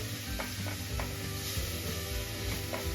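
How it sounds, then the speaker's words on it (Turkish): Garlic and onion sautéing in a pan while being stirred for a garlic-and-onion broad bean dish, a steady soft sizzle with occasional scrapes of the spoon, fairly quiet and close. "Şöyle birlikte kavuruyoruz biraz"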